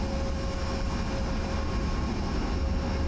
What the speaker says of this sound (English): Your aeroplane is noisy